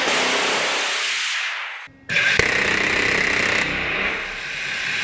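An aircraft's 30mm rotary cannon fires at 3,900 rounds per minute, a loud dense continuous roar that cuts out briefly and then resumes in a steady close burst.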